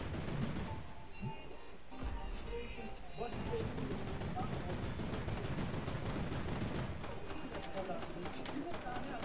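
Rapid gunfire aimed at a llama in the video game Fortnite, a dense stream of shots and game effects from close by. Voices talk over the shooting.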